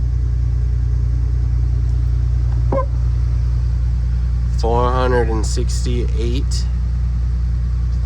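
A 1984 Kenworth C500 truck's engine running for the first time in 20 years, a loud, steady low rumble throughout. A voice speaks briefly over it partway through.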